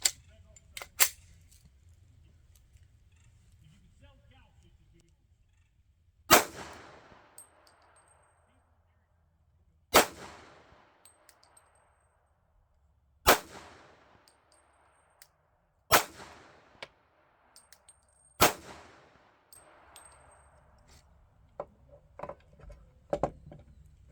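Single sharp 9mm pistol shots with 1776 ammunition, fired from a handgun fitted with a ZEV extended magazine release, extended slide stop and aftermarket sights; about six crisp reports spaced several seconds apart, with faint clicks and handling noise between them.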